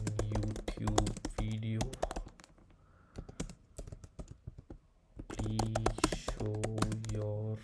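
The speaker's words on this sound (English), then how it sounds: "Okay, let me type again." Rapid bursts of computer keyboard typing during a live coding session, clicking steadily through the middle with a person talking before and after.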